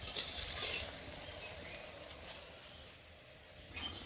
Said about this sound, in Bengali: একটু খরা করে ভেজে নিতে হবে।